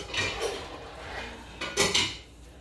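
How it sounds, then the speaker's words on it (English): A metal pot lid is set onto a large frying pan, a couple of light clinks and clatters close by in a quiet kitchen, the last one louder. "I'm just going to find something, a lid for that to cover it up."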